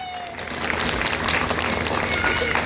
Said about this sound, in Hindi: एक बार जबरदस्त तालियां अपने लिए